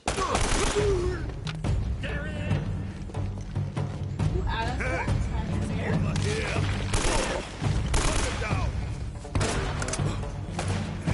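AK-47 gunfire in the Uncharted video game, rapid loud bursts of automatic shots mixed with thuds and in-game impacts, nearly continuous across the stretch.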